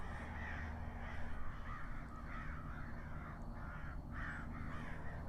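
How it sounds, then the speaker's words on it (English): About eight crows squabble in a tree, their harsh caws overlapping in a noisy, repeated outdoor chorus at moderate distance with steady background hum. "It's like 8 crows in the tree fighting."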